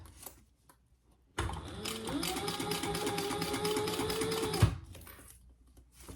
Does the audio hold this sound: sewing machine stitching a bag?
yes